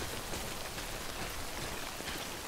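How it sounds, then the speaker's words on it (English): Rain falls steadily in the video game Death Stranding, a dense even hiss of drops on surfaces that stays fairly soft and constant throughout. "the rain's letting up"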